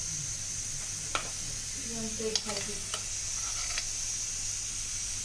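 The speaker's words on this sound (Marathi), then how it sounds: "तर हे आपण बाउलमध्ये काढून घेऊया." A ladle scoops mutton paya soup from a cooled pressure cooker into a bowl, with a few soft metallic clinks and scrapes over a steady background hiss.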